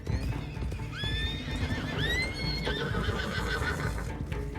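In a western roleplay video game, a horse gives loud rising whinnies and snorts close by, over a steady run of hoof clip-clops.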